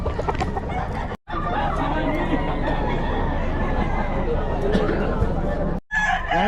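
Chickens and roosters at a Bocaue market, with crowing and clucking mixed into a dense, busy crowd din. A short break in the noise comes near each end.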